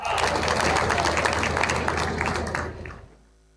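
Audience applause in an assembly hall for Punjab's senior minister, a dense burst of clapping with some cheering that holds for nearly three seconds before fading off abruptly.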